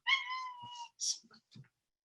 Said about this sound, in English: The meow is my cat trying to get out.